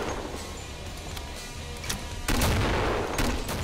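Gunfire in a competitive multiplayer shooter game match, a dense clatter of shots and bursts under a constant background wash, growing louder and sharper in the second half.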